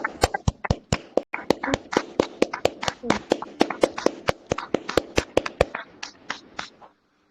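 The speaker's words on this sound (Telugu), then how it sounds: "అందరూ ఒకసారి క్లాప్స్ ఇవ్వండి సార్" An audience claps together in a steady unison rhythm, about three sharp claps a second, loud and close, before the clapping fades out near the end.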